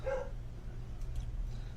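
A dog gives a single short bark near the start, muffled and somewhat distant over a constant low hum, with no talking.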